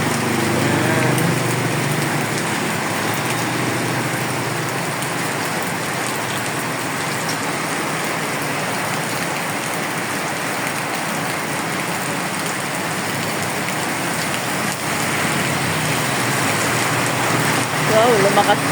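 Heavy rain pours down steadily on a stranded vehicle, a dense continuous roar of drops on surfaces, with a faint engine hum underneath.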